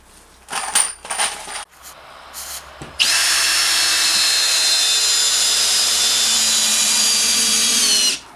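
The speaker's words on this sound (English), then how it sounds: "I think that'll go down if I put some screws in it" Power drill driving screws into wood during restoration of an old wooden house in Norway: a few short bursts and clatter, then one long steady high-pitched whine of about five seconds, close and loud.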